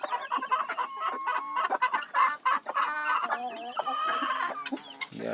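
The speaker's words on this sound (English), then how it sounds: "The chicken, they are beating each other very bad." Poultry-farm chickens fighting and beating each other, with loud, busy clucking and agitated squawks from several birds close by, continuous and overlapping.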